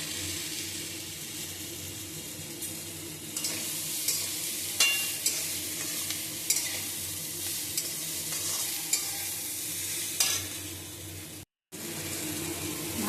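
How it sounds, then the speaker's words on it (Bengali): Cumin and coriander spices frying with yardlong beans in a pan, a steady soft sizzle with scattered stirring scrapes and clinks, fairly close, briefly cutting out near the end. "এক মিনিট মতো ভেজে নেব এইভাবে"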